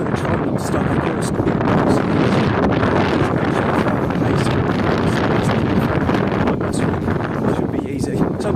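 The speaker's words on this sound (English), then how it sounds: "Jesus Christ, it is windy." Strong wind buffets the microphone during an outdoor run while training for a half marathon, a loud, constant roar across the whole clip with rustling gusts and no pause.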